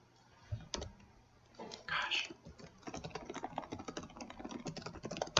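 Quick typing on a computer keyboard, a steady run of close, crisp key clicks that speeds up through the second half.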